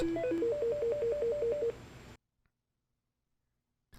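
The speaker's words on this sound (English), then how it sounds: "Press the down arrow to cycle through the various ringtones." An electronic Mitel 6863i desk phone ringtone plays a quick repeating two-note melody, then cuts off into silence before another brief tone starts at the very end.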